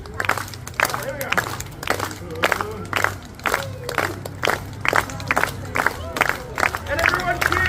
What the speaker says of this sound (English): Can I get a slow? Hand, clap, everyone, together. Clap, clap, clap.